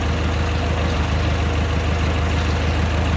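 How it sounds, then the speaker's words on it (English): A 1925 Durant Star Touring car engine running smoothly at idle, a steady, even low rumble with constant loudness and no variation in pace, close by and without voices. "See, it's a nice, smooth running engine."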